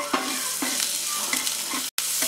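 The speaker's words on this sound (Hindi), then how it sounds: "प्याज भी डालेंगे और इसे अच्छी तरह से हम मिक्स कर देंगे" Onions are stirred in hot oil with turmeric, and a spoon scrapes rhythmically through the pan about every half second over a constant near sizzle, with a brief dropout near the end and no voices.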